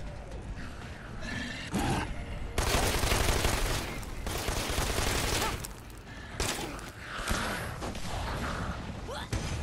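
Dead Island 2 gunfire rattles in dense, noisy volleys against a busy game soundscape, fairly loud and continuous, with short lulls and some talk mixed in.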